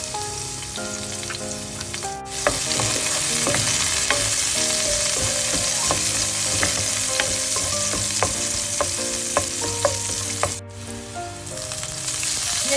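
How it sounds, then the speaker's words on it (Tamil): Mustard seeds, fennel seeds and garlic fry in hot oil, a dense, loud sizzle punctuated by rapid crackling pops and spits, building after an initial lull and running steadily with one brief break. "எண்ணெய் சூடாயிட்டுது. கடுகு சேர்க்க போகிறேன். பெருஞ்சீரகம் சேர்க்க போகிறேன்."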